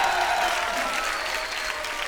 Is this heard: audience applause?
yes